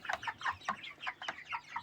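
Young broiler chickens and roosters cluck and chatter in a rapid, irregular run of short calls, close by and fairly soft, with no one speaking.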